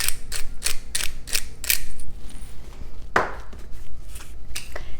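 Fresh black pepper is ground from a hand mill, a run of rapid crunchy grinding twists in quick bursts up close, followed by a sharper clack and a few more scattered grinds.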